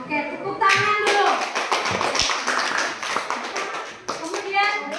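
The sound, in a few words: class clapping hands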